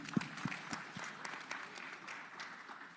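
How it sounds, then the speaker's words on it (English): Audience applause for a panel at a ministerial dialogue on tourism and investment, a moderate crowd clapping steadily with distinct individual claps audible, fairly faint and gradually thinning out. "Big round of applause, please."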